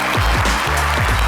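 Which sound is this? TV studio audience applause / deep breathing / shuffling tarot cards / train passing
TV studio audience applause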